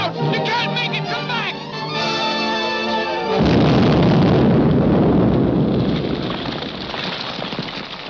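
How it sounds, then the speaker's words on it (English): A car blows up in a 1943 jungle adventure serial, with a sudden loud roaring blast cutting in over dramatic orchestral music and rumbling on into a noisy crackling decay. "That explosion got Grogan, too."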